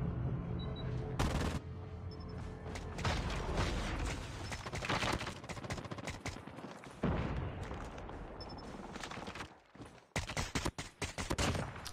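An SKS rifle fires in a ranked Call of Duty multiplayer match, loud repeated semi-automatic shots in quick bursts amid other gunfire and mechanical clatter, with a short lull near the end.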